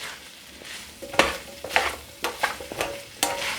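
Vegetables cooking in rendered chorizo fat in a pan, a low sizzle punctuated by several loud, close scraping strokes of a spoon stirring the pan.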